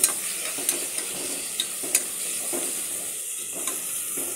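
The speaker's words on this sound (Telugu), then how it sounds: "కొంచెం పసుపు, అల్లం వెల్లుల్లి పేస్ట్ వేసుకొని బాగా కలుపుకోవాలి." Turmeric and ginger-garlic paste are stirred in a pan, a spoon scraping with several sharp taps over a low continuous sizzle, close and without speech.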